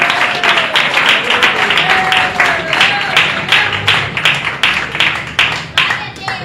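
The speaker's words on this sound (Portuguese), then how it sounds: "Palmas para Jesus, irmãos." A church congregation claps hands in a steady rhythmic beat, loud and close, with a voice sustaining a melodic line over the clapping throughout.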